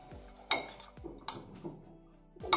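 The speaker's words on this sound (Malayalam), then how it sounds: "ഇനി നമുക്കിതെല്ലാം കൂടെ ഒന്ന് മിക്സ് ചെയ്യാം" Chicken marinade with salt being mixed in a bowl gives sharp, close clinks of a utensil striking the bowl, three or four spaced taps with faint scraping between.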